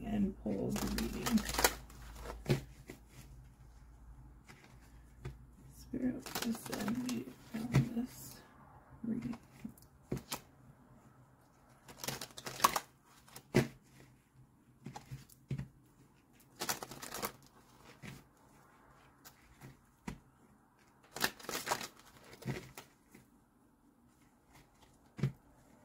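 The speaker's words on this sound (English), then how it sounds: "I'm just going to shuffle" Tarot cards being shuffled by hand, repeated bursts of riffling and sliding cards at irregular intervals, close and fairly soft, with quiet stretches in between.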